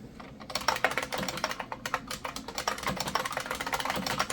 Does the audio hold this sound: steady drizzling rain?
no